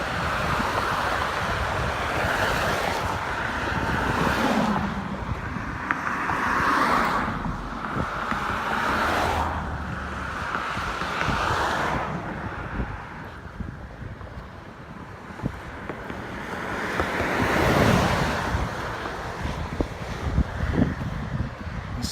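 Wind and surf buffet a Mississippi beachfront a couple of days after a hurricane, a steady roar with gusty swells rumbling against the microphone, continuous and fairly loud with no voices.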